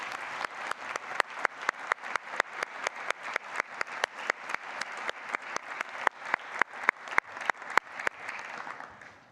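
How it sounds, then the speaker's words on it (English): An audience at a Grade 6 and Grade 8 school graduation ceremony claps in a steady, brisk round of applause that holds for several seconds before tapering off, with no talk over it. "please give her a round of applause anyway"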